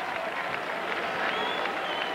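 Crowd applauding during a free throw at a Penn State vs North Carolina NCAA tournament basketball game in an arena, a steady wash of clapping and crowd noise beneath the play.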